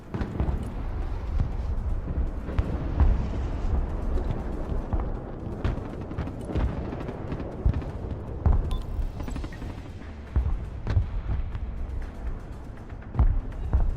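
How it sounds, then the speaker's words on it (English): Explosions and booming blasts from a mortar barrage in the military strategy game Broken Arrow, with US Marines, a dense continuous rumble punctuated by sharp impacts throughout. "What's there, like a mortar or something?"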